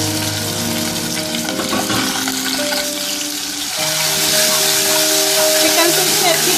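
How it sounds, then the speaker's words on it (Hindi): Garlic and chicken sautéing in oil in a pan, a loud continuous sizzle with stirring scrapes, the frying intensifying partway through as the chicken goes in. "गार्लिक को हल्का सा सौते करेंगे और इसमें चिकन ऐड कर देंगे।"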